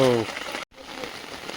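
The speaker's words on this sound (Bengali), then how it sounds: "বিশাল জোরে বৃষ্টি এসে গেল" Heavy rain pours down in a steady, dense broadband wash near a home garden. A voice speaks briefly at the start, and the rain continues after a short gap.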